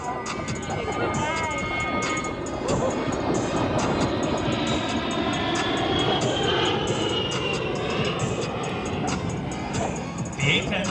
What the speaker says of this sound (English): The A-10's turbofan engines have more than just power to its performance.